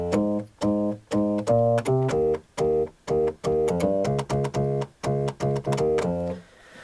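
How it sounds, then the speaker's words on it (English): Casio MT-68 keyboard using its piano voice to play a bass line; a bouncy sequence of short, clipped, buzzy tones in a steady rhythm, close and fairly loud, with no voices. "But the closest thing I found was the piano part, which then sounds like this."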